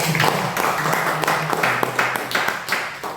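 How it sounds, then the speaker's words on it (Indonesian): A seminar audience at a business presentation in Pekanbaru claps hands in a quick, crisp run of distinct claps that holds steady for about three seconds before easing slightly. "Oke, tepuk tangan buat."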